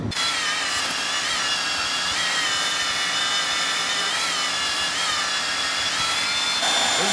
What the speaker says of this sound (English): So I'm gonna go over to the bandsaw and try and clean up some of this, get it closer, ready to cut